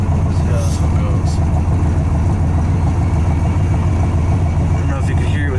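A 1967 Corvette coupe's 427 L71 Tri Power V8 idles steadily, a loud low rumble filling the cabin with a faint high-pitched blower motor whirring on top.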